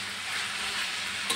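Chopped chapati noodles being stirred in a hot pan, a steady close sizzle and scrape with a small clink near the end, no voices.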